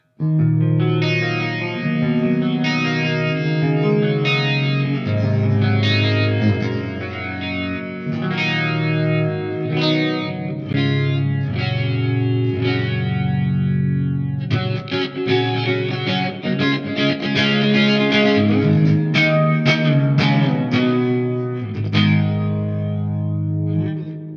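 Electric guitar chords and riffs played through a swirling chorus-like modulation effect with some grit, continuous and fairly loud.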